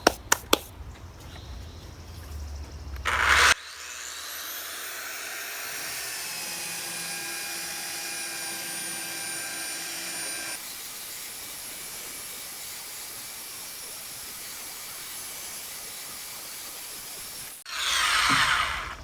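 A power sander buzzes in a steady high whine while sanding laser engraving off a wooden piece, a continuous loud drone that stops abruptly near the end, with brief handling clatter before and after.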